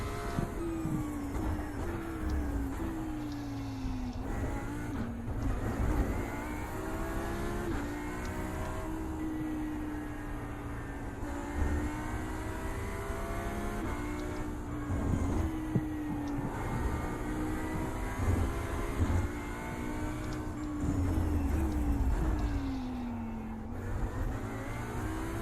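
A GT3 race car at Laguna Seca in a racing video game roars continuously through gear changes, with rising and falling revs and traction control cutting in, loud and steady for the whole stretch.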